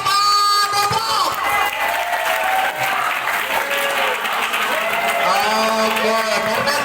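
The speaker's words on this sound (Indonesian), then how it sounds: "Oke, tepuk tangan buat SMA Depok" A crowd of visitors at a Plered ceramics site in Purwakarta applauds a group from SMA Depok high school. The clapping is loud, dense and sustained, with scattered voices and cheers mixed in.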